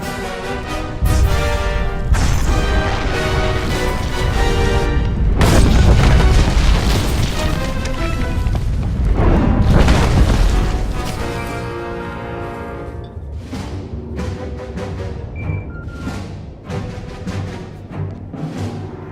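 Explosion in Star Wars: The Old Republic during the Imperial agent story: heavy, loud booming blasts swell over dense orchestral music, peaking in the middle before settling into quieter music, with no talking.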